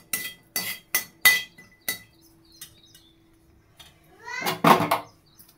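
Curry leaves being stirred in a hot iron kadhai with the gas turned off for curry leaf chutney: a run of sharp metallic clinks and taps, close and distinct, then a quieter pause before a louder rattling scrape.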